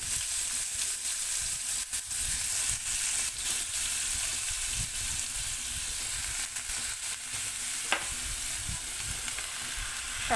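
Chopped bottle gourd goes into hot oil seasoned with fried panch phoron spices, giving a loud, continuous close sizzle that holds steady throughout, with a few faint clinks and no voices.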